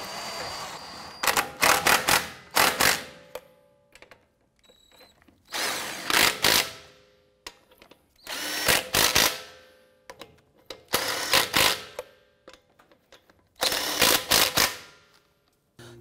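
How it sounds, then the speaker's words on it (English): Power tool snugging down lug nuts on a 2011-2018 Ram 1500 during a front brake caliper replacement: five separate bursts of whirring, ratcheting rattle, each lasting about a second or two, separated by quiet gaps, close and without talk. "Let's go ahead and snug these lug nuts down."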